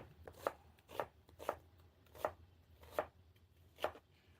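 Knife chopping through onion on a cutting board for chicken teriyaki with wild mushrooms: about seven to eight crisp, evenly spaced cuts, close and moderately loud, with no talking.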